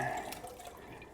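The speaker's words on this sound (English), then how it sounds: "We're just gonna pour it through the strainer" Cold brew coffee poured through a strainer, a steady liquid splash and trickle for about a second, fairly quiet and close with no talk.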